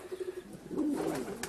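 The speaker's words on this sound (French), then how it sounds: "on a gardé quelques pigeons." Pigeons kept on a family farm give soft, low, repeated coos, quiet and a little distant, with the calls growing fuller toward the end.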